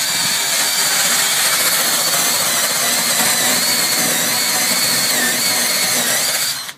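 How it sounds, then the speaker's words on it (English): A wire wheel on a power tool spins against a kettle corn machine coated with oven cleaner, giving a loud, steady whirring hiss that runs unbroken before cutting off abruptly at the end. "I'll go ahead and rub it in with a wire wheel here."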